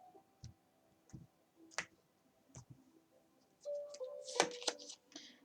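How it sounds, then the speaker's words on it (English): A deck of tarot cards is cut and handled, giving a few soft separate clicks and card snaps, then a brief denser burst of riffling shuffle near the end, close and fairly quiet, with no talking. "Let's cut the deck."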